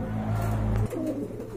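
A pigeon in a collection of local and imported breeds at a seller's coop gives a deep, droning coo that breaks off sharply, followed by a softer warbling note against background hum.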